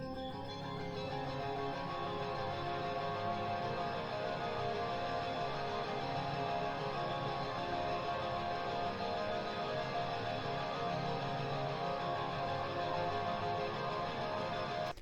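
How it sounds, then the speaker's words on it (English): Sustained electronic keyboard tones soaked in heavy reverb, the harmonics smearing into a dense, unbroken wash that holds at an even level for about fifteen seconds. "If we listen to the reverb effect and just the keys together."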